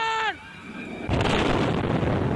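A loud explosion at a burning oil refinery in Indramayu bursts out after a brief tonal sound, followed by a sustained rumbling roar.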